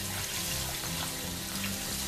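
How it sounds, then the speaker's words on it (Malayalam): About two and a half cups of water pour into a pot of kalyana rasam on a high flame, a steady close splashing gush running the whole time with no talk over it. "ഇനി ഞാന് ഏകദേശം ഒരു രണ്ട് രണ്ടര കപ്പ് വെള്ളം ചേർക്കും"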